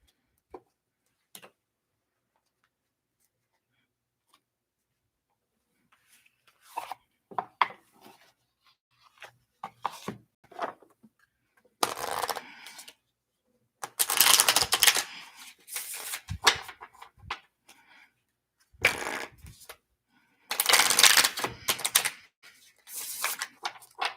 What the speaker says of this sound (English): I'm going to do one last shuffle and see whatever card comes to the bottom of the deck